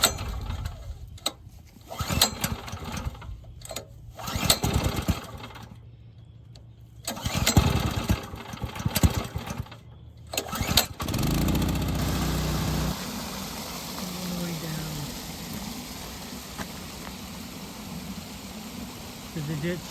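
A gas-powered pump engine used to drain a pond, pulled several times with rattling recoil strokes and sputters before catching, then running at a steady loud idle, with someone talking early on.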